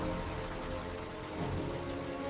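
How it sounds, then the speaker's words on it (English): Steady rain falls in a dense, even hiss, close and continuous, with no voices over it. "When rain arrives, the entire ecosystem responds."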